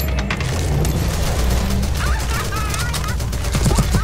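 Rapid bursts of gunfire from CS:GO in zombie escape mode crackle continuously, with dense overlapping shots and mechanical clatter, loud and close throughout.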